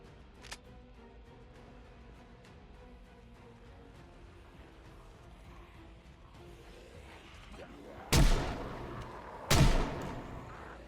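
Two sharp, loud gunshots from a firearm in the video game Project Zomboid ring out a second apart near the end, following quiet, faint mechanical clicks and handling noises.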